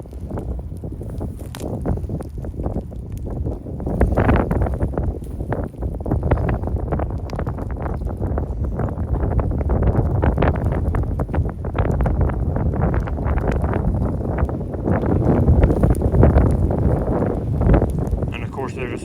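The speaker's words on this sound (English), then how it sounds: "And of course there's a super strong wind comes by." Strong wind buffets the microphone in a garden where weeds are being burned, a loud continuous roaring rumble with gusting surges throughout, and a voice speaks beneath it.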